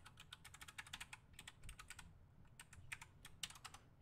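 Password being typed on a computer keyboard: quick, close bursts of crisp keystrokes with short pauses between runs, no voices.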